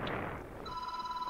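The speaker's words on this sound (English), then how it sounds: "Whose phone was that?" A telephone rings in a Roblox game, a steady electronic double tone held for the last half-second after a burst of noisy game sound.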